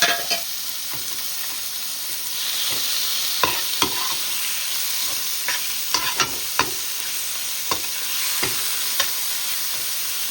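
Chicken liver curry with pepper frying in a pan, a loud steady sizzle punctuated by a series of sharp stirring scrapes and clacks at irregular intervals.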